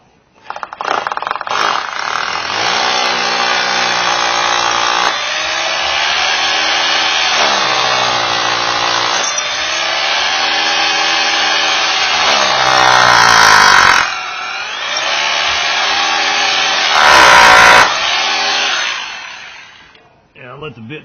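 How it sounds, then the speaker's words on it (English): A powered drill bores a hole through concrete by a door opening, giving a loud, continuous grinding whine for about twenty seconds that pauses briefly and shifts in pitch as the bit bites and eases off. "So now I'll drill a hole through the concrete."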